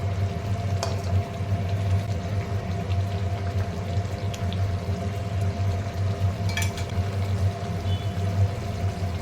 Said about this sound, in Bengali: ঝোলটা টক টক করে ফুটছে